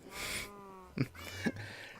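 Minecraft cat giving two short, close meows in quick succession after a brief stretch of tonal sound, with the room otherwise quiet.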